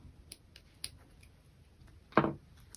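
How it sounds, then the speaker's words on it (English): Scissors snipping slits in a bag stabilizer, a few faint clicks followed by one sharper, louder cut close by. "I'm going to cut the slits on my stabilizer piece as well."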